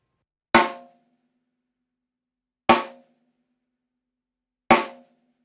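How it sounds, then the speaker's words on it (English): Three sharp snare drum rim shots, evenly spaced about two seconds apart, each a crisp crack with a short ringing tail, played alone. "a rim shot that's pulled back a little bit more, where your tip is hitting"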